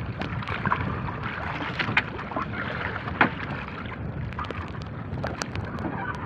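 Strong wind buffets a small fishing boat out at sea, a steady rushing roar with water sloshing against the hull and a few sharp knocks, close and continuous.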